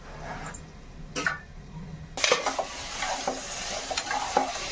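Potatoes frying in a pan, quiet at first, then a sudden burst of louder sizzling with repeated stirring scrapes and clatter, close by and continuing steadily, with no voices.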